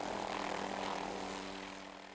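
A helicopter used to survey buffalo herds over open, frozen parkland hums and drones steadily from a distance, a faint, even rotor and engine noise that slowly fades.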